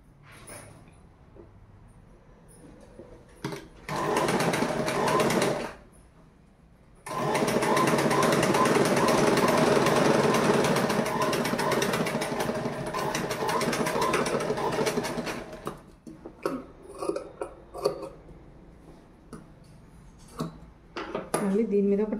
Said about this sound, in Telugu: మళ్ళీ ఇక్కడ నుండి ఇక్కడ వరకు కుట్టుకోవాలి